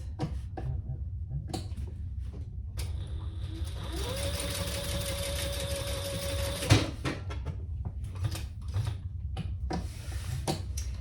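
A sewing machine bastes fabric pieces of a belt bag together, a steady whirring run of a few seconds amid quieter rustling and handling noise, close by.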